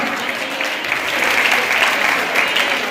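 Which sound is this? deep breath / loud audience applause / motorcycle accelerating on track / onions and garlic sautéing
loud audience applause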